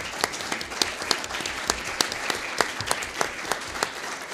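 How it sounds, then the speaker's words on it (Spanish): Applause from a modest audience at an open event, sparse individual claps forming a loose, uneven rhythm, fairly close and moderately loud. "Les pido un fuerte aplauso para Tomás."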